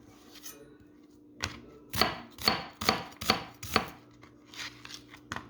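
White onion being chopped on a board with a knife, a run of about eight crisp, close, evenly paced strokes with no talking.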